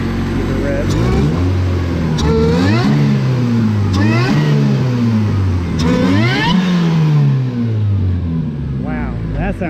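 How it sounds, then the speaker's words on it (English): Supercharged D16Y7 engine in a Honda Civic, loud and close, revving repeatedly in several rising and falling sweeps over a steady idle. "Give it a rev."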